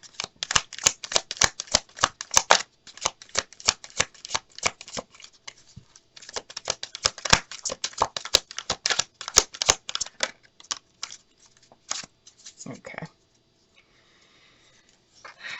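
Tarot cards shuffle in quick riffling bursts: crisp, close clicks and flutters in rapid rhythm, pausing briefly before resuming, then tapering into near quiet.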